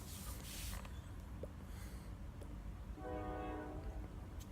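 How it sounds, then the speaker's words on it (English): A distant train rumbles by, and a horn sounds faintly from far off toward the end. "If you hear the doop, there's trains"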